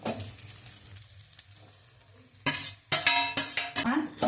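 Moringa leaves fry in a hot pan with a soft sizzle, then a series of loud, rhythmic scraping strokes of a spatula against the pan as they are stirred, growing busier toward the end.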